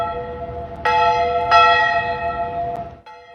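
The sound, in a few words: church bells ringing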